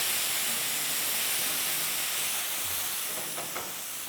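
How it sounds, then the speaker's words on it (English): Chili paste and peppercorns sauté in a pan, giving a steady, moderately loud hiss of sizzling oil with a few faint stirring knocks near the end. "Along with the chili paste, I'm going to add in some peppercorns as well. And let's saute this nicely."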